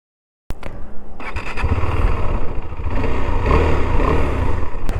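A 2023 KTM 390 Adventure X motorcycle starts up abruptly after a moment of silence, and its engine hums close and loud while riding, swelling gradually and staying strong to the end.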